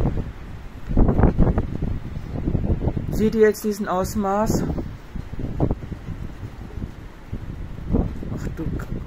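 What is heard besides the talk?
strong storm wind gusts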